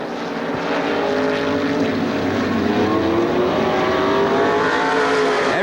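Pack of race cars roaring past at Lorain County Speedway, engines loud and continuous as they run nose to tail, a dense sustained drone that swells early and holds.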